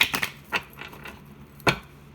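A deck of tarot cards being shuffled by hand, giving a few crisp riffling and slapping bursts, with a cluster early on, one in the middle and a sharp one near the end, close and fairly quiet with no talking.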